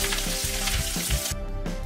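Red chillies and curry leaves sizzle steadily in hot oil as a tempering for an ivy gourd and fresh coconut stir-fry. A close, continuous crackle carries soft stirring bumps and no voices.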